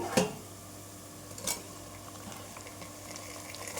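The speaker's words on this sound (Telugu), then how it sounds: "ఆనియన్స్ బ్రౌన్ కలర్లో వచ్చినాయి కదా నేను క్లీన్ చేసి పెట్టుకున్న మాంసాన్ని అందులో వేసేసుకుంటాను" Country chicken pieces go into browned onions in a hot pan, giving a soft, steady frying sizzle with a couple of sharp clanks of utensil against the pot.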